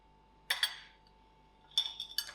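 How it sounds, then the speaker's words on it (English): A utensil clinks sharply against a bowl while dry batter ingredients for vetkoek are mixed with oil, two short clusters of bright knocks separated by a quiet pause. "I'll mix these ingredients all together."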